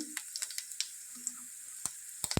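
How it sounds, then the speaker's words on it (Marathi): Peanuts frying in hot oil for a village-style smoky brinjal bharit, giving soft scattered crackles and pops over a faint sizzle, with a few sharper pops near the end. "आता त्यात मी सर्वप्रथम शेंगदाणे टाकते. शेंगदाणे छान फ्राय करून घेऊ त्यातच."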